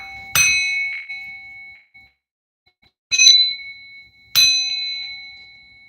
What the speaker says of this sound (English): I'm gonna bang this bell to remove, block, and cleanse and rebuke all evil eye